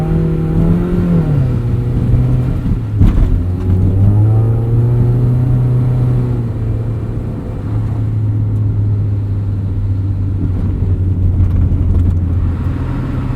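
A Mazda Miata pulls away from a complete stop on winter snow, engine revving up and holding a steady drone through a gear change, loud and close for the whole stretch with no voices.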